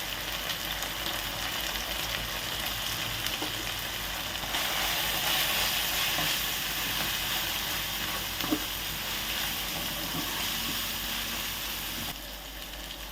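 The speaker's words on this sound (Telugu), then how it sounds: "ఇలా ఫ్రై అవుతుంటే" Oil sizzles and crackles continuously in a pan while a Telangana-style fish curry is being cooked, a close, steady frying hiss that swells midway and then drops slightly near the end.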